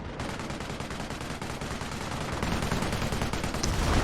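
Dense, continuous gunfire from a tactical war video game, a steady roll of rapid shots that grows louder, with no voices over it.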